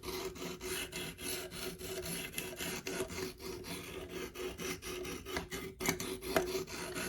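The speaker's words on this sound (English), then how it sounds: "it's a whetstone that moves around your knife rather than a knife that moves around a whetstone" A rotating whetstone sharpener is worked along a knife blade, giving a steady, close rasping grind in repeated short strokes with no talk.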